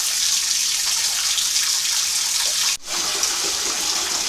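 Water runs steadily from a tap into a bathtub in an old farmhouse with iron water pipes, a constant rushing hiss with a brief break near the end.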